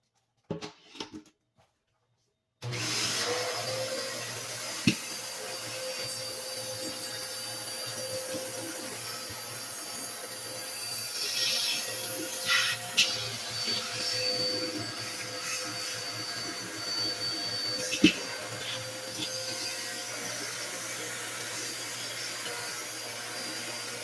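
After a brief quiet start, a vacuum cleaner runs loudly and steadily for a long stretch while sucking broken glass out of a garbage disposal, with occasional sharp ticks and rattles of debris.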